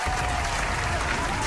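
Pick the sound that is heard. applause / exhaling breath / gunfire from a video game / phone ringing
applause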